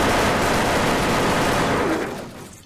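Sustained automatic gunfire from a weapon in the online shooter WolfTeam, with heavy recoil: a loud, continuous burst of rapid shots filling the clip, then tapering off sharply near the end.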